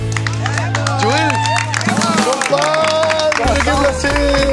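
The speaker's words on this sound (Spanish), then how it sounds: "¡Un gran aplauso" Crowd applauding and cheering in a small town plaza, a busy clatter of clapping under music with sustained tones, while voices speak and shout over it.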